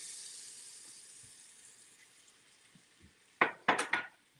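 Diced yellow onions tumble into a pot as a short cluster of three or four close, bright clattering impacts near the end, after a quiet stretch of faint hiss.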